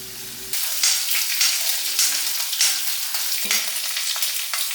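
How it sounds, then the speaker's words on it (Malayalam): Mustard seeds, green chillies and curry leaves sautéed in hot coconut oil give a loud, steady close-up sizzle with crackling pops and a soft stir or two, and no voices. "വെളിച്ചെണ്ണ ഒഴിച്ച് ചൂടായ ശേഷം കടുക് പിന്നെ പച്ചമുളകും കറിവേപ്പിലയും ഇത് നന്നാക്കി ഒന്നുകൊണ്ട് വഴറ്റിയെടുക്കാം"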